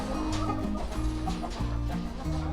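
Several hens cluck steadily and close by, their repeated throaty calls overlapping without pause.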